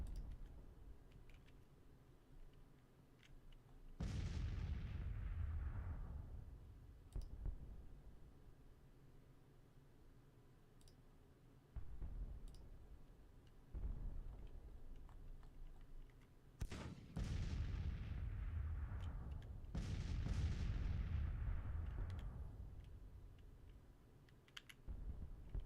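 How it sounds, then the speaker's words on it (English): Artillery fire in the American Civil War strategy game Grand Tactician, several booming blasts with long rumbling decays rolling in at intervals over a quiet battlefield background. "It sounds like artillery's dueling."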